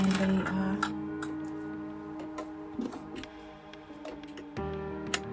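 A sewing machine runs steadily, stitching close to the edge around a quilted fabric wallet. It gives a continuous motor hum with rapid mechanical ticking, briefly pausing and restarting near the end, with no voices.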